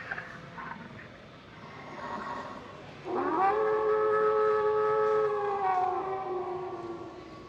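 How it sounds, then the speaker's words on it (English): An animatronic air raid siren prop in a Spirit Halloween store in Orlando, Florida winds up into a loud, steady mechanical wail after a few seconds of quiet store ambience, then slowly dips in pitch. "see the air raid siren guy."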